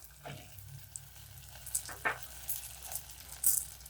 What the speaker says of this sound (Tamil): நல்லா வந்து கலர் மாறுற அளவுக்கு நல்லா வதக்கிக்கலாம்